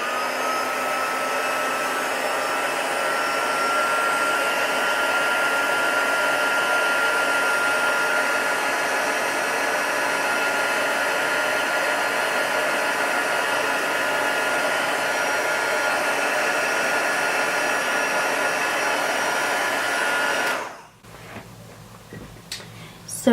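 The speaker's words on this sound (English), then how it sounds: "And I'm going to use the heat gun, and you will see how the color changes." A heat gun blows on watercolor ink, a loud steady close whooshing hum that runs unbroken for about twenty seconds before cutting off abruptly.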